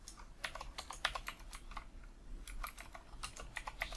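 Rapid typing on a computer keyboard while coding CSS, with quick irregular bursts of clicking key presses, close and fairly quiet, with brief pauses between runs and no voices.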